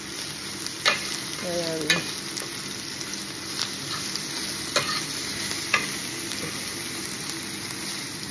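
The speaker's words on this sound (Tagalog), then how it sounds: "At gigisa na natin ang ating, sama na natin ang ating kamatis" Tomatoes sauté in a hot pan with a constant close sizzle, broken by a few distinct spoon clinks and scrapes as they are stirred; a single short spoken word is heard.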